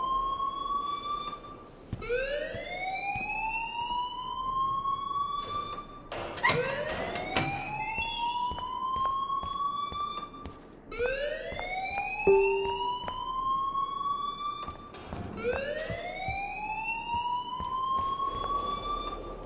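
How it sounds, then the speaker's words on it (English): A fire alarm rings in the Life is Strange video game, a loud electronic siren sweeping upward in repeated rising wails, steady and alone with no talk. "please turn off that alarm since that's your job"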